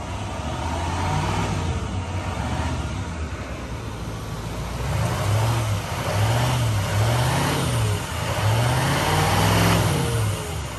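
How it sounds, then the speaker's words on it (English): An L5P Duramax diesel pickup with a turbo resonator delete, idling loudly up close and then revved in several rising and falling pulls, with a steady deep drone throughout. "Alright, let's rev it up a little bit."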